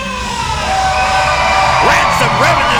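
Wrestling crowd at a UPW show in Santa Fe cheering and whooping loudly and continuously, with rising yells and shouts across a dense roar of voices.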